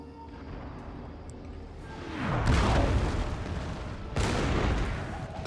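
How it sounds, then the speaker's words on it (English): Cannon fire in the Empire Total War video game, two heavy booming volleys a couple of seconds apart rising out of a quieter battlefield rumble, moderately distant with a rolling tail after each. "Put some cannon their way."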